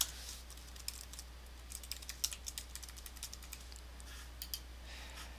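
Quick, irregular clicks of fingers typing on a computer keyboard, close and fairly quiet, with short pauses between bursts of keystrokes and no voices.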